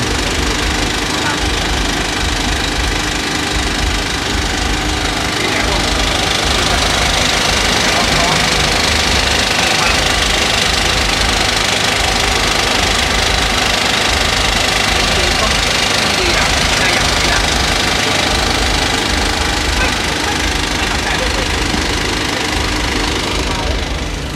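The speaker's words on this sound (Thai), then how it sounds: "ท่านผู้ชมได้ยินเสียงรูหนามเตยไหมครับ กระทบกับเฟรม" A film projector runs while being set up in a cinema, its sprocket holes striking the frame in a loud, continuous mechanical clatter with a steady, dense rattling drone throughout.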